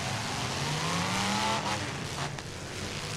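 Street stock fullsize race cars roar past four in a row, their engines loud and continuous with a rising and falling pitch as each one sweeps by close.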